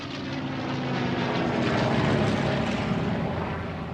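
A P-51 Mustang fighter plane's propeller engine drones loud and steady throughout, a dense rumbling roar that swells slightly toward the middle, with no voices.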